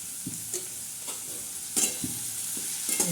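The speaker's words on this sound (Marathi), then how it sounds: "हा कांदा आपण लालसर करणार आहोत" Onion fries in a pan while a spoon stirs it, making a steady close sizzle with repeated scraping strokes at a regular rhythm.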